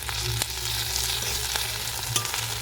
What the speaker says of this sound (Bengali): এবার আমি এর মধ্যে দিয়ে দিচ্ছি আদা বাটা